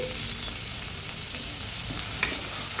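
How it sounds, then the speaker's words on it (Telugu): Onions, green chillies, curry leaves and crushed garlic fry in hot oil for a bitter gourd tamarind curry, giving a steady, dense sizzle with faint stirring scrapes throughout, close and continuous. "ఉల్లిపాయలు కలర్ వచ్చేంత వరకు ఫ్రై చేసుకోవాలి"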